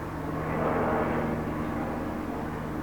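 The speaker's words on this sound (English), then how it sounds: "and here goes the helicopter." A helicopter passing overhead outdoors makes a steady, broadband engine roar that holds for a few seconds, fairly loud and continuous, with a slight swell in the middle and no talk.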